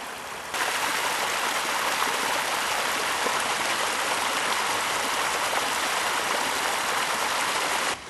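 A burst water main in a housing estate in Výšinka, Turnov, sends water gushing across the pavement: a loud, steady, broadband rush that holds constant for about eight seconds with no voices.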